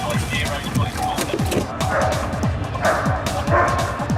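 Police dog unit at a brawl near Liverpool Street station, London: a dog barks and yips repeatedly in quick rhythmic bursts, close and loud, over a busy background with voices.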